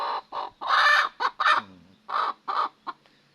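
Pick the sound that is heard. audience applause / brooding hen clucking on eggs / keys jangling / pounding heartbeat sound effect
brooding hen clucking on eggs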